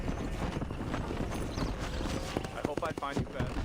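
The horse Silver approaches with clip-clop hoofbeats in the video game Red Dead Redemption, steady hooves running through busy game sound while someone talks over them.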